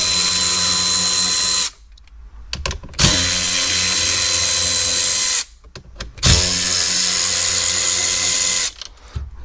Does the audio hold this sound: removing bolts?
yes